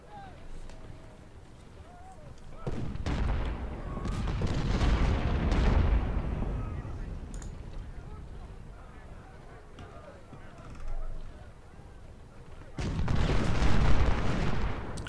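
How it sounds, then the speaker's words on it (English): Rifle volleys and booming battlefield gunfire from Ultimate General: Civil War. The fire comes in two heavy rumbling bursts, near the start and near the end, over a steady noisy backdrop. Someone talks over it. "That is the 3rd volley for the 1st Ohio."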